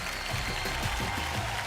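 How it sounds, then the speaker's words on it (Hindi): Loud crowd applause fills an indoor Bhojpuri film award show as the audience greets a producer. It forms a continuous, dense wash of clapping under a low rumbling hum, with no break. "जोरदार तालियां हो जाएं"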